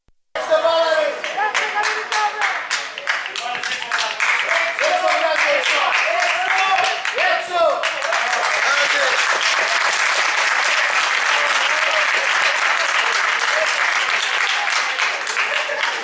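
A stadium crowd at a football match involving Rethymno applauds, starting with distinct rhythmic claps that swell into a loud, dense, sustained roar of clapping, with voices faintly mixed in.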